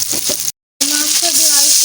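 Shing catfish dropped into hot oil in a pot, a close, loud sizzle broken by a brief silent cut and then resuming strongly, with faint voice traces in the first half.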